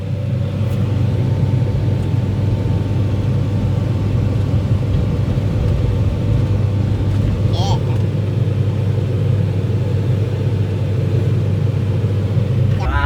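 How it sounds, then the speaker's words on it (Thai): A heavy diesel engine of a CAT 315DL excavator drones loudly and constantly under a full-load test with the arm held, a deep, unbroken rumble throughout. "เข้าค้างไว้เพื่อทดสอบว่า เครื่องยนต์ไหวไหมนะครับ แบบนี้เขาเรียกทดสอบฟูลโหลด"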